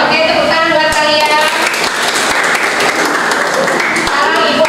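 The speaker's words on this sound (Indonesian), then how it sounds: "Oke, tepuk tangan buat kalian." Classroom pupils clap together in a lively burst at close range, with children's voices chattering and calling out over and through the clapping the whole time.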